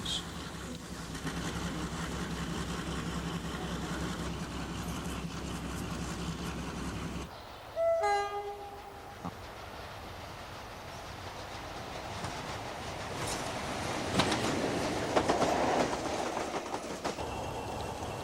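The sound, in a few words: British Rail diesel locomotive train passing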